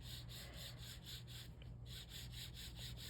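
An ink pad rubs repeatedly over embossed washi tape in steady, soft back-and-forth scrubbing strokes, faint and close, with no voices.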